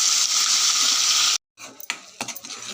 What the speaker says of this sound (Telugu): ఉల్లిపాయ పేస్ట్ వేగుతుందండి.